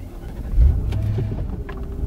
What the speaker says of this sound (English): So, let's fire this baby up and see what we can do.